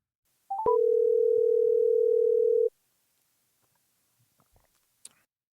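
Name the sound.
telephone dial tone while placing a call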